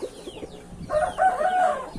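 Backyard chickens cluck in short bursts, then a rooster crows loudly and close by, the call stretching over the second half.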